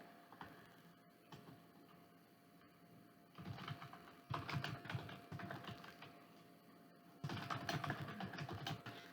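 Fast, light clicks of a computer keyboard being typed on to add text, coming in uneven bursts with short pauses between them, close and quiet with no voice.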